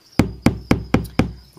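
Five sharp knocks on a box holding crickets, evenly spaced about a quarter second apart, close and fairly loud, with a faint high chirping hum underneath.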